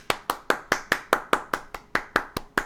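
Steady hand clapping indoors, about a dozen sharp claps at an even, fairly quick rhythm, close and alone with no talk.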